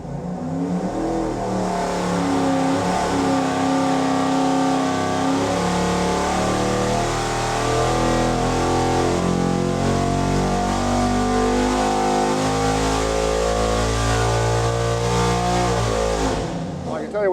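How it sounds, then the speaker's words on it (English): A race engine on a dyno, now running a gasoline carburetor in place of an E85 one, makes a loud sustained pull whose roar climbs steadily through the rev range before cutting off. "We have switched out the E85 carburetor for our gasoline one. Let's make a hit, see what happens."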